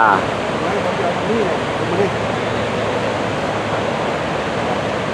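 Niagara Falls roars as a steady, loud broadband wash of falling water, the Canadian side in view across the gorge, with faint voices briefly audible over the constant rush.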